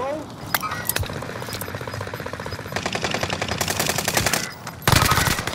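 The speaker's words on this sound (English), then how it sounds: "There's two teams shooting at me" Rapid automatic gunfire in Call of Duty: Warzone on Rebirth Island rattles in fast, evenly spaced bursts, with a few scattered shots before and after, while a player talks over it.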